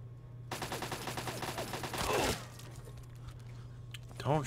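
Rapid rattling gunfire from Fallout 3 game combat, a steady burst of repeated shots lasting a few seconds with a crunchy impact near the end, close and fairly loud over a low background hum.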